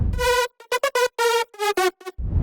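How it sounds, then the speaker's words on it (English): A dry future house synth lead plays a short staccato melody of bright, buzzy notes with abrupt stops and no echo, close and loud. "So the body lead without effect sounds like this."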